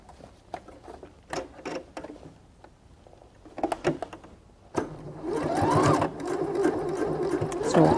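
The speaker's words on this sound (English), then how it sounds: "So once you start sewing," A sewing machine stitches fabric, starting with a few scattered clicks and knocks before the motor runs in a steady, close whirring burst for the last few seconds, with no talking.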